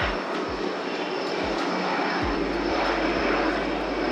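Loud, steady roar of an airplane flying low overhead above a hotel rooftop in Bangalore, a broad continuous engine rumble with a descending Doppler whine, heard close without talk.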